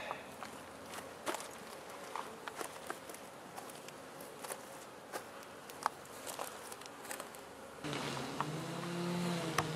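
Honey bees buzz around an open hive frame, a soft continuous drone with scattered light taps and handling clicks, and a louder, closer hum swelling in near the end.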